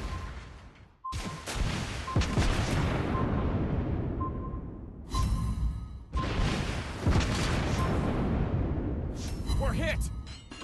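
Explosions and artillery-like booms hit a warship in World of Warships Blitz, arriving as several heavy blasts spaced a few seconds apart with rumbling decay, under shouted voices and alarm tones.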